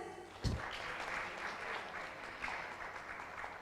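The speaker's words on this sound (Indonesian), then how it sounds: "Sekali lagi tepuk tangan Tribunes." Audience applause at a Maluku tourism talk event in Ambon, a steady spread of clapping from a crowd lasting throughout, moderately loud, with a louder thump near the start.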